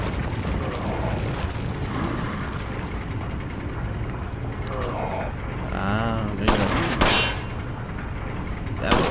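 Gunfire in the video game Resident Evil 4: a few sharp, loud shots burst out near the end over a dense, noisy game soundscape, with voices or vocal sounds heard briefly in between.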